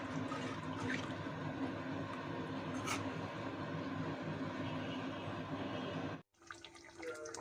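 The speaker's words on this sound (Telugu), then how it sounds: "తర్వాత కొంచెం వాటర్ పోయాలి" Water pours into a pan of dhaba-style egg masala curry, making a steady rushing, splashing sound that ends abruptly near the end, followed by quieter kitchen noise.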